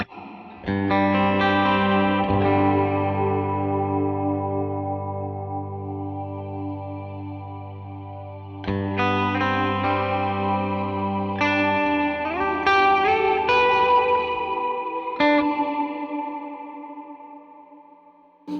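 Guitar played through a Strymon BigSky MX reverb pedal on its subtle choir preset, tenor voice setting: sustained chords swell into a lush, shimmering choir-like wash with long reverb tails, loud and continuous, with no talking.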